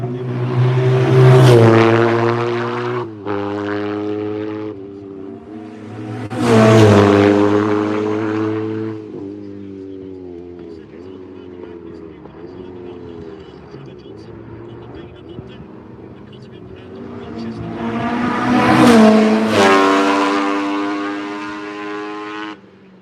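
Racing sidecar outfits roar past on the Isle of Man TT course at Castletown and Stadium Corner in a Pre TT Classic, three loud engine passes rising and fading with rumbling gaps between.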